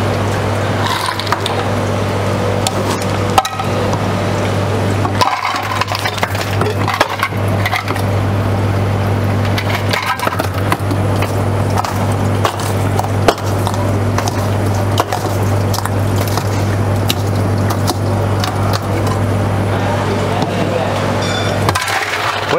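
An electric ice crusher machine grinds ice cubes into shaved snow. Its loud, steady motor hum runs throughout under dense crunching and crackling, close up.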